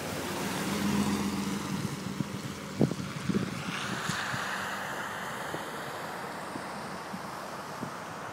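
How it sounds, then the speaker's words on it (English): Flood water pours through a breached levee near McCook Lake in a steady broadband rush, heard from a distance and partly masked by wind buffeting the microphone, with a few faint knocks. "Yeah, you got to see that water just pouring over there."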